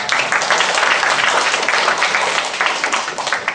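An audience at a Taiwanese-language workshop opening ceremony in Boston applauds, giving dense, sustained clapping from many hands, loud and close, without speech over it.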